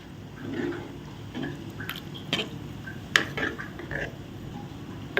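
Coconut milk poured into a tomato curry and stirred, heard as soft wet drips and squelchy sloshes with a few small clinks, fairly quiet and close.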